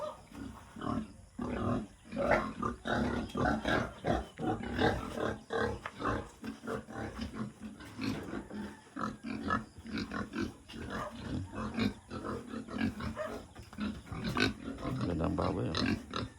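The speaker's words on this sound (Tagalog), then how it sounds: "Mga baboy. Dami pa ng baboy." Pigs on a Philippine farm grunt and oink steadily, a dense overlapping chorus of snorts and squeals from many animals close by, continuing without a pause.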